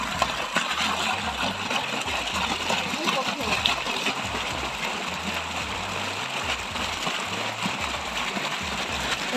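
Water runs and splashes through a channel on a farm, a steady gurgling flow close by, with an engine idling in the background and people talking.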